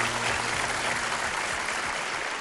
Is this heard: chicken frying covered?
no